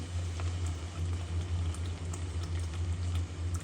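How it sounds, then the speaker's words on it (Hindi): Water boiling in a pot, a steady low bubbling rumble with light popping on top, close and continuous with no talking. "पानी उबल गया है जी।"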